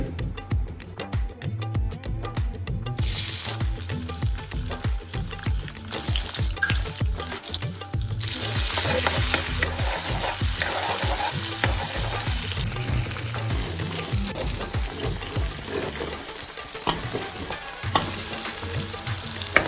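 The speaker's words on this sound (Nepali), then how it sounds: "यो प्याजलाई चाहिँ हल्का ब्राउन हुनेसम्म चाहिँ भुट्नुपर्छ है।" Chopped onion frying in a pan for Nepali home-style spicy veg macaroni, a loud continuous sizzle with stirring scrapes throughout, close and without talk.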